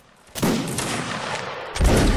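Musket volley fire in the Mount & Blade Napoleonic Wars video game, a line of soldiers firing as one: a loud, sustained crackling burst of overlapping shots, followed by a second heavy blast near the end.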